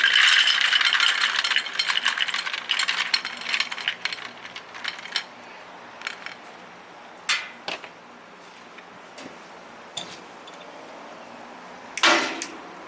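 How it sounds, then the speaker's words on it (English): Plastic aquarium filter bio balls from a Marineland filter are poured into a bowl, a dense loud rattling cascade for the first few seconds, then scattered clicks and clattering knocks as the last few drop in, with no talking. "I'm going to pour the bio balls in a bowl"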